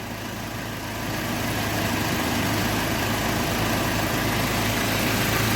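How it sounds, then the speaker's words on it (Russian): A UAZ Patriot engine runs at idle, a steady close mechanical drone with low vibration, heard alone without talk and rising slightly in level after the first second. "Посторонних звуков я у мотора не слышу. Он работает исключительно."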